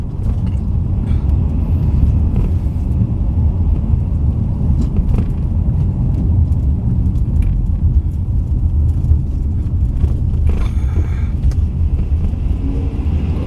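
A 2000 Dodge Intrepid ES with a 3.2 liter V6 driving on the road, its steady low engine drone and road rumble filling the cabin continuously and loudly with no talking.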